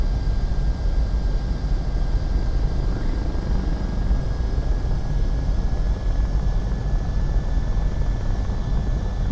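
An SU-30M2 jet touches down on a runway in a VR flight game, its engines a loud, steady, unbroken roar that holds at the same level from start to finish.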